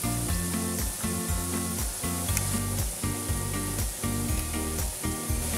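Muthia, fenugreek dumplings, sizzle in a hot pan of oil with a dense, continuous crackling hiss and occasional scrapes and clatters, loud and close throughout, no talking.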